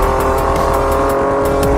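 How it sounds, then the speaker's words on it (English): A Lamborghini Countach 12-cylinder engine drones loudly and steadily up close, a sustained harmonic growl with a faint rhythmic pulsing, heard on its own. "great 12-cylinder sounds"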